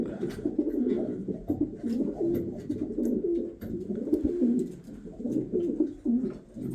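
Pigeons coo in a loft in Germany, several birds making low, throaty, overlapping rolling calls close by, continuous with faint rustling.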